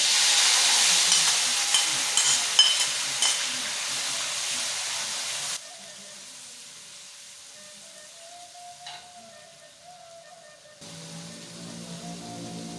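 Green chilies sizzle in hot oil in a wok, a steady close crackling hiss that drops to a quieter simmer partway through, with no voices.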